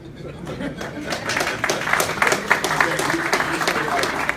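Applause from a room of people at a Cannabis Control Commission public meeting swells and continues steadily, many hands clapping at once with a voice or two underneath.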